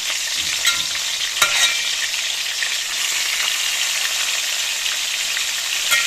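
Fish sizzling steadily in hot oil in a pan, a continuous bright crackle with a few sharper pops, close and fairly loud, with no talking.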